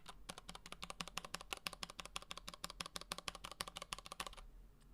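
Mechanical keyboard with Cherry Brown switches typed on rapidly, a dense run of crisp close clacks in quick rhythm that stops abruptly near the end, leaving a faint hum.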